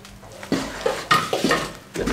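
Roasted sesame seeds are stirred into a rice flour ladoo mixture in a pan, giving a few close scraping and clinking strokes at an uneven rhythm after a quiet start.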